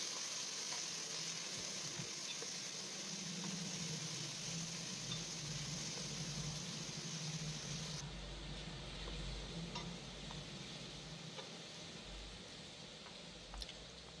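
Ginger-garlic paste with curry leaves sizzles in a pan for a mutton curry, making a soft, continuous frying hiss with faint crackles throughout. The sound stays quiet and fairly close, with no one speaking.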